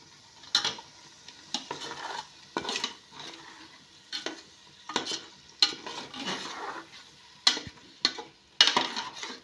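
Masala paste frying and being stirred in a home kitchen pan for egg biryani, with repeated sharp scraping stirs of a spoon against metal over a soft sizzle, close and fairly quiet, no voices.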